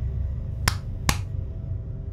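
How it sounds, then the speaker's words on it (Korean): Two sharp hand claps sound close and crisp, about half a second apart, over a low steady background hum. "저는 비구 스님의 근처로 가서 손뼉을 2번 쳤습니다."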